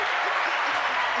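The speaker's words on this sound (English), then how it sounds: "A round of applause" Brief burst of dense audience applause, a steady wash of clapping lasting just over a second, fairly loud and close, with a hint of voices underneath.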